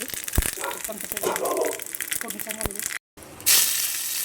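Spices crackle and sizzle loudly in hot oil while tempering for a mung dosa chutney, with a voice briefly present. After a short gap the sizzle returns as a louder, brighter hiss.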